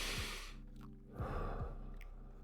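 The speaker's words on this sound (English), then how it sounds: "3 good deep breaths." Deep, drawn-out breaths during a home workout, two long inhale-exhale cycles close to the mic against a low steady hum.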